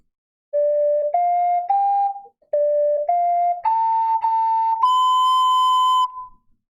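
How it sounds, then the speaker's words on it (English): An ocarina plays a Legend of Zelda: Ocarina of Time melody: a short rising phrase of clear, pure sustained notes played twice, ending on a longer, higher held note, loud and close with no talking. "when you think of an ocarina playing, you think of something from the Ocarina of Time"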